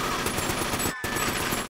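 Dense automatic gunfire from the horror film Terrifier 2 rattles in a loud continuous burst, briefly pausing once before resuming and cutting off abruptly.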